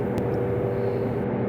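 A Diamond single-engine light airplane accelerates for takeoff, its engine a steady, loud drone with a faint tonal hum, heard continuously from inside the cabin.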